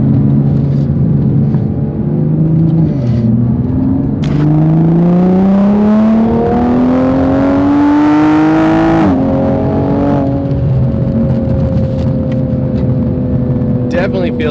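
Toyota Supra MKV widebody tuned with a JB4 for extra boost, its engine climbing loudly under throttle in a long rising pull, then easing back to a steady drone while someone talks over it.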